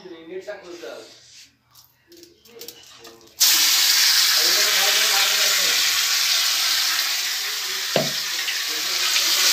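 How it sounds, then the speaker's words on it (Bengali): Long bean paste hits hot oil in a pan and bursts into a loud, steady sizzle that keeps going after a stretch of quieter talking and kitchen clatter, with a brief knock partway through. "এবার আমি এই যে বরবটিটা যে মিক্সিতে পেস্ট করে নিয়েছি এটা আমি ওর মধ্যে দিয়ে দেবো"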